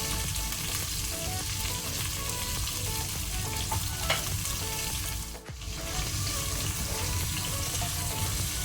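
Onions fry steadily in a pan with fresh mint and coriander leaves, giving a dense, continuous sizzle close up with a brief dip midway, no talking.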